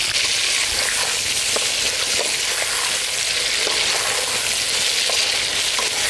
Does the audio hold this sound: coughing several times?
no